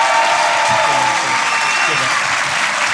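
A theatre audience at a live comedy podcast recording gives a loud, sustained round of applause for the guest, thick and continuous throughout, with a voice faintly heard beneath the clapping.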